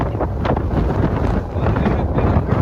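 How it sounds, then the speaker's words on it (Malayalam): Strong wind roars across a rocky hilltop, heavy continuous buffeting against the microphone, loud and close with no voices. "നല്ല ശക്തിയായിട്ട് കാറ്റ് വീശുന്നുണ്ടായിരുന്നു"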